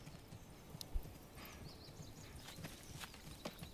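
Horse hooves clip-clop softly in a Manor Lords medieval village scene, a faint steady walking rhythm under a low ambient bed, with a brief whinny-like tone partway through.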